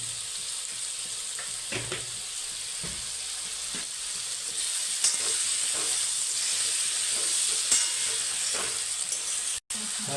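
Chopped chibhda vegetable cooks in hot oil for a village-style Kathiyawadi shaak, a constant close sizzle and frying hiss with faint stirring taps throughout.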